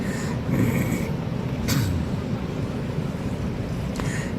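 Blustery wind at a lake buffeting the microphone in rolling gusts, with a couple of sharper rattling bursts of shaking fishing rods over a constant low rumble.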